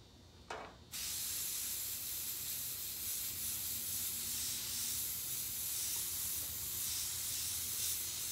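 An airbrush spraying paint onto a shirt: a short puff, then a continuous, steady hiss of air that runs unbroken for several seconds, close and fairly quiet.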